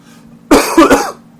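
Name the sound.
cough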